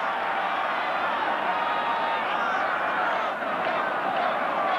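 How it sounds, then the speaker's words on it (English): A stadium crowd roars at a 1984 Seahawks vs Raiders football game, a loud, continuous wash of noise from many voices that holds steady for several seconds. "Listen to the crowd."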